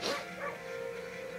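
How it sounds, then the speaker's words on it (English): A cartoon dog barks in the video game Okami, a few short yipping barks near the start, then a steady tonal game backdrop continues alone. "I'm making this dog bark."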